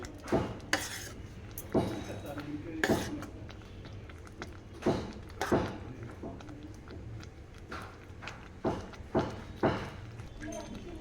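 Spoon stirring jaggery rice pudding in a metal pot, a series of sharp scraping clinks at an uneven rhythm, near and fairly loud, with a voice talking between them.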